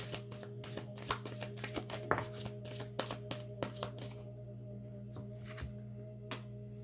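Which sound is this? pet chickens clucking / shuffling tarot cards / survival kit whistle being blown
shuffling tarot cards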